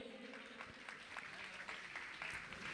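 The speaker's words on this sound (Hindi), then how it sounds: "ताली बजा के आप इनका सम्मान करें।" An audience applauds to honor guests at a Jain religious ceremony in Indore, a sustained patter of clapping hands with a voice faintly underneath.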